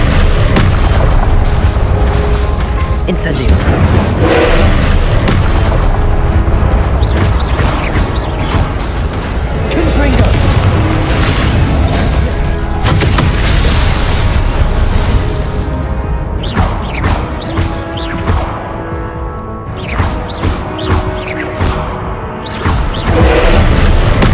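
Fire spells burst and boom repeatedly in the game Hogwarts Legacy, heavy rumbling blasts layered with crackling and mechanical clatter, loud and close, thinning into separate sharp pops toward the end.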